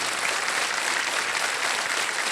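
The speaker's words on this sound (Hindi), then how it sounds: "तालियां बजती रहे" A studio audience on the Kaun Banega Crorepati quiz show claps in a dense, sustained round of applause that stays even and continuous with no talking.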